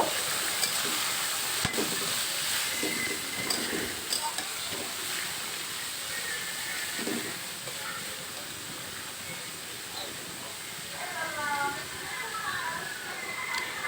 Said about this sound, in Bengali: ওই যে কেটে রেখেছিলাম মূলো আর আলু ওইটা দিয়ে দিলাম দিয়ে নেড়ে নেব